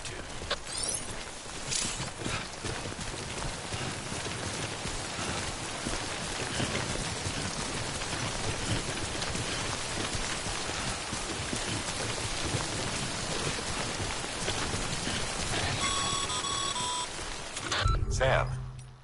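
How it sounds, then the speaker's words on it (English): Steady rainfall pours down in Death Stranding, a dense continuous hiss of drops on surfaces with a faint low rumble beneath, lasting throughout before a brief louder shift at the end; no one speaks. "Don't stay out in the rain any longer than you have to."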